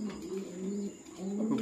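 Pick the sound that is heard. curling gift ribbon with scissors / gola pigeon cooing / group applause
gola pigeon cooing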